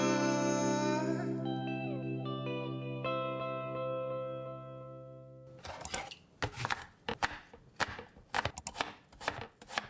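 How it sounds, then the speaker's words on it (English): After a sustained musical tone fades out, a knife chops a bunch of apples on a board with a quick series of sharp, irregular, close-up strikes. "I just chopped up a bunch of apples"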